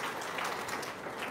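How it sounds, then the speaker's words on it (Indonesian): Short burst of audience applause after a call to clap at a testimonial gathering, steady dense clapping filling the whole moment without talk. "Tepuk tangan dong"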